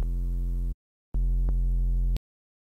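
Serum sub bass built on a triangle wave with added noise and distortion, sounding as two sustained low notes separated by a short gap, the second with a small click partway through, loud and alone.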